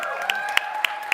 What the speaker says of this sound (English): maybe we can do a lot louder clapping and welcome Yuri from Lifesaver Sim on stage